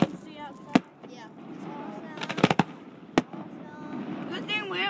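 Christmas festival fireworks in Lake Arthur, Louisiana burst in sharp distant cracks, a cluster of rapid pops and a few single bangs, while people chat and react nearby throughout.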